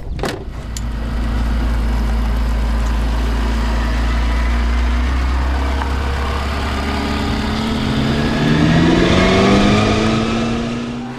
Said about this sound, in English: acceleration feels extremely strong, and the engine revs to 9 grand